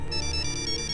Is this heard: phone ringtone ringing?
yes